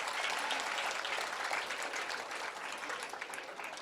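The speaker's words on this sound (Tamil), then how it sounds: "ஒரு கைத்தட்டல் அவர்களுக்கு நீங்க கொடுக்கலாம்." Applause from a seated audience at a Tamil public speech event, a dense, steady wash of many hands clapping that carries on loudly through the whole stretch with no voices over it.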